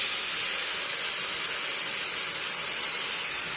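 Water poured into hot oil over frying potatoes in a pan, a loud, steady sizzling hiss of steam that holds without a break throughout.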